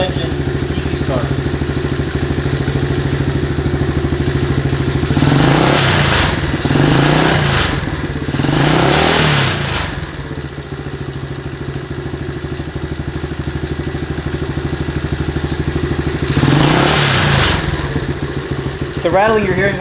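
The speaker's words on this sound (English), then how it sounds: "The rattling you're hearing when I'm revving it is all the little metal things that are on the table" A 1974 Honda CT70 engine idles steadily up close, revving up several times, while small metal objects on a nearby table rattle and buzz with the revs.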